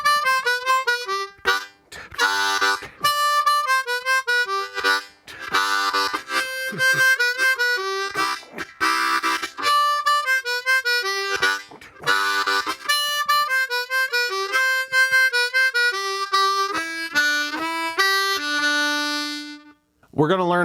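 A C harmonica plays a 12-bar blues jam without bends, with rapid rhythmic chords and single-note runs in steady bursts, close and loud, ending on a held note with no talk over it.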